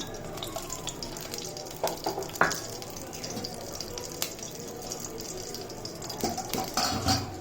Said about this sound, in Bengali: তেলে একটু ভাজা ভাজা করব তেজপাতা দিয়ে দিলাম তেলে